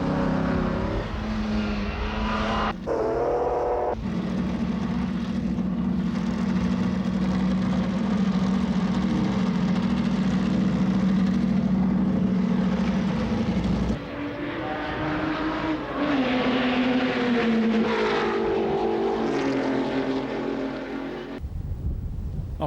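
Classic racing cars driven by legends like Fangio, Kling and Lang head out for a lap of the old Nürburgring circuit. Loud, sustained engine notes rise and fall in pitch as several cars pull away together.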